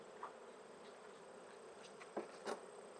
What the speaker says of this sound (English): There are a lot of bees in there.